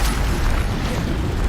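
A Bombarda spell in the Hogwarts Legacy video game sets off a dense, booming explosion that roars loud and continuous throughout, heavy in rumbling low end.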